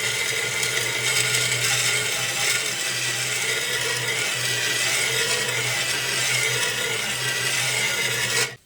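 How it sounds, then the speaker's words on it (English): A metal file rasps steadily along the blade of a garden spade as it is sharpened, a continuous close gritty scraping with a low hum beneath, stopping abruptly at the end. "we've got to sharpen to keep this nice and sharp"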